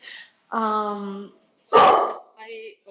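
A nearby dog barks and yips in a few short, separate bursts with brief silences between them, clear and fairly loud, during a break in conversation.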